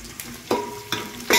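Onion fries in a pan for a vegetable pulao while a spoon stirs it in three distinct scraping strokes over a soft, continuous sizzle, close and without talk.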